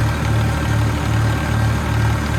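A farm tractor engine runs steadily at around 1500 rpm, a loud, close, low throbbing drone with an even pulsing rhythm and no voices.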